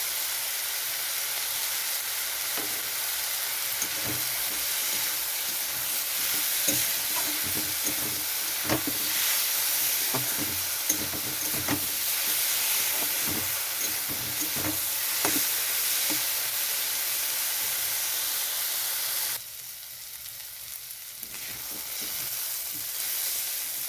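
Vegetables for oats khichdi fry with salt in a pan, a continuous hissing sizzle broken by repeated stirring scrapes, dropping quieter near the end, with no speech.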